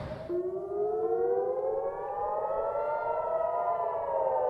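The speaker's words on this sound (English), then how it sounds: "Air raid sirens could be heard in northern Israel" Air raid sirens wail across northern Israel, a loud rising-and-falling civil defense tone that swells after a brief start and holds steadily for several seconds with no talking.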